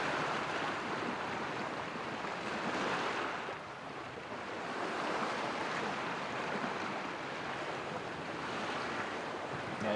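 A sailboat moves through open ocean waves, with a continuous broad rush of water and wind that swells and eases softly, steady and fairly close, with no voices.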